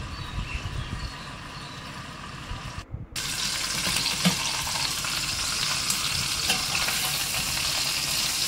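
Marinated chicken frying in ghee over a low flame gives a steady, moderate sizzle, briefly dropping out before resuming a touch louder and continuous, with no talking.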